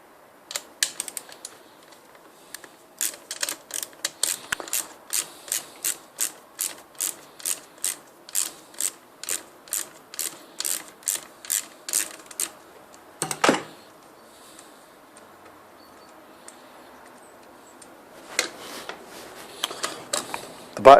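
A ratchet loosening the back plate bolt on a Range Rover L air compressor, a long run of sharp evenly spaced clicks, a pause with a heavier clunk, then a few more clicks near the end, close and clear.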